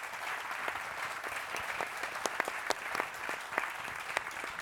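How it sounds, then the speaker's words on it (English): An audience at a technology investing conference applauds a panel. The clapping is steady and moderately loud, and a few sharper individual claps stand out from the crowd. "If we can give a round of applause for our panel."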